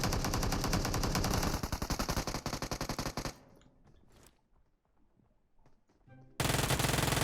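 Rapid automatic weapon fire in PUBG Mobile, a loud, fast rattling burst lasting a few seconds, then a quieter stretch of faint clicks and scattered sounds before another loud burst cuts in.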